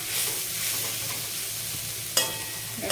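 Banana flower frying with cardamom in a pan, a steady close sizzle throughout with a sharp stirring scrape near the end, no talking.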